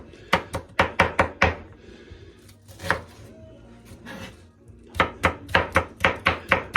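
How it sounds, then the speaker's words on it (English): A medium yellow onion is finely chopped with a knife for meatloaf: quick, crisp, rhythmic chops in two close bursts, separated by a quieter pause with light handling noise. "medium yellow onion, but I personally like it pretty finely chopped"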